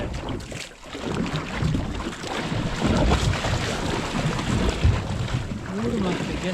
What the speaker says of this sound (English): Wind's dropped out a little bit again.